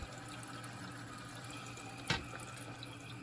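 A Kohler toilet tank slowly refills with water in a steady, quiet hiss of running water. One brief knock or clunk sounds partway through.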